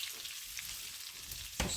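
A cup of rice fries in two tablespoons of butter in a pan, a soft, steady sizzle at close range with a brief louder stirring scrape near the end.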